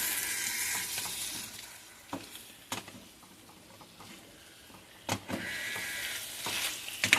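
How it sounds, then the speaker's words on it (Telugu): Washed chicken sizzles and fries steadily in a pan for a biryani chicken curry, with close scraping and clattering stirs breaking through the hiss at intervals and no voices. "ఇలా చూడండి, చికెన్ అంతా కూడా ఇలా కలుపుకోవాలండి"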